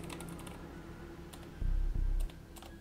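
Rapid typing on a computer keyboard, a quick burst of light key clicks followed by two heavier thumps, like the space bar or enter key, heard close and alone.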